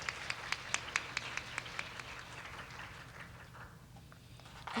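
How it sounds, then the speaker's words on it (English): Conference audience applauding presenters at a Ruby programming event: scattered, distinct claps at first that thicken into soft, fairly distant applause and then fade, with no talking. "Please give them a big hand of applause."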